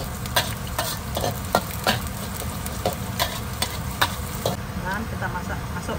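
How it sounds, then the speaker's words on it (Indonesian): Onions frying in a little oil in a pan, a steady close sizzle broken by regular scraping clicks of stirring throughout. "Tuangkan sedikit minyak untuk goreng dan kita terus goreng bawang."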